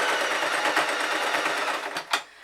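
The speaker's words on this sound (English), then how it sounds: "I continually sew" A sewing machine stitching fabric continuously for a puppy ears hat, a loud, steady rapid whirring stitch that runs without pause and then slows and stops near the end, close and alone.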